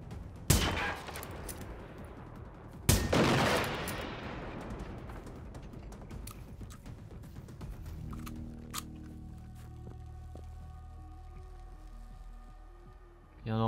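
Gunfire in the video game Generation Zero: two sharp, loud shots with long echoing tails, followed by quieter game ambience and a final shot at the end, with no talking.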